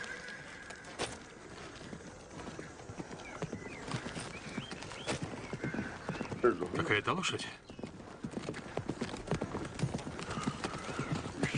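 Hooves clip-clop steadily nearby while a horse whinnies, with a voice briefly speaking over the trotting.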